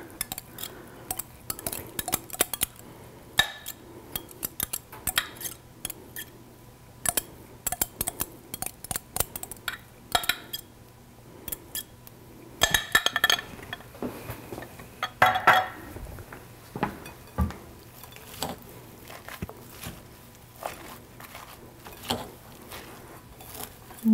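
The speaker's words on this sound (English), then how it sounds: "Then I'll stir in the dressing." A salad is stirred with dressing in a bowl on a kitchen counter, producing a close, irregular series of clinks, scrapes and utensil taps against the bowl, with no talking.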